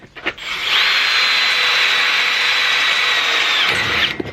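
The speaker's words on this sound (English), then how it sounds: "I've just had to change the drill bit because the first one's just blunted out. So we'll go again." A power drill whines steadily for about three seconds as it bores into wood with a freshly changed bit, starting and stopping abruptly, close and loud.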